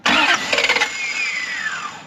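A Lexus LS400 that has sat for ten years cranks on its starter, giving a loud, close whir with a few rapid rhythmic pulses that fade into a hiss without the engine catching.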